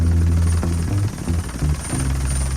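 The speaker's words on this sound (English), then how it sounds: "a helicopter" A low, steady throbbing rumble with a faint beating pulse, like a helicopter passing overhead, loud and continuous throughout.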